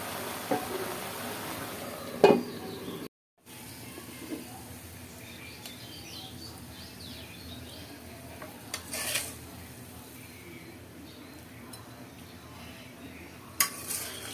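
Pumpkin greens cook in a pot, with quiet stirring and a few sharp clinks of utensil and lid against metal over a soft, low simmer. There is one brief gap of silence.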